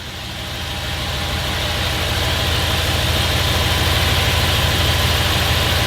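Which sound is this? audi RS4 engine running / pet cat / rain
audi RS4 engine running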